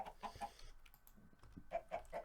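Chickens in the Minecraft modpack Stoneblock 3 cluck in short repeated bursts, a few calls at the start and another cluster near the end, moderately quiet with no talk.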